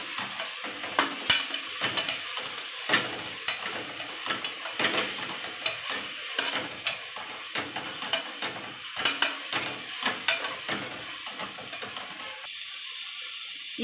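Onion and tomato sauté for chicken biryani in a pan, with a continuous sizzle broken by frequent rhythmic scrapes and clacks of a stirring spoon close by.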